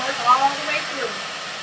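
A hair dryer blows steadily close by while hair is being dried and brushed, a brief whooshing burst that shifts slightly in pitch as it moves.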